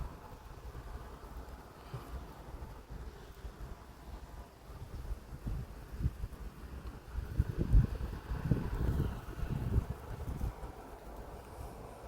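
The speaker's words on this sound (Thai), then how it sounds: "ลมแรง" Strong wind buffets the microphone in a large open farm field plot, a steady low rumble rising into heavier gusts near the end, with no voices.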